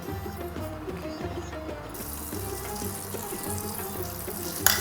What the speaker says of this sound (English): So we're going to put some butter in a pan.